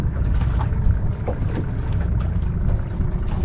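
Fishing boat powered by a Yamaha outboard engine backing up at sea near Pulau Tujuh: a steady low engine drone with water wash and wind buffeting, continuous and fairly close, with no voices.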